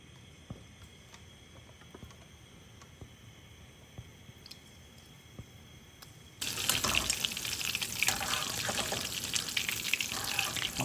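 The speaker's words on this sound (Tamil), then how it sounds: "இதில் வந்து அப்படியே அந்த இறாவை கொஞ்சம் லைட்டாக போட்டுடலாம்." Prawns dusted with maida dropped into hot oil, a quiet stretch followed by a sudden loud, steady sizzle and crackle of frying that carries on to the end.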